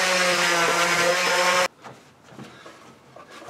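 A power sander buzzes over a wooden Christmas lantern, a loud, close, steady motor hum for under two seconds, then stops suddenly and leaves only faint room noise.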